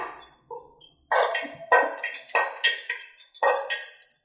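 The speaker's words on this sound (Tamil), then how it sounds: "இந்த பொரியல் சத்தம் கேட்குது பார்த்தீங்களா" Sesame seeds dry-roasting in a pan give bursts of crackling and rattling as they are stirred and tossed, several distinct strokes in a row, close and fairly loud, with no voices.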